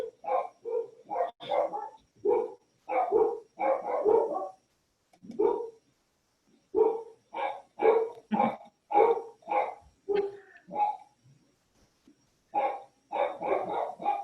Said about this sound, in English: Well, Don, your dogs have something to say.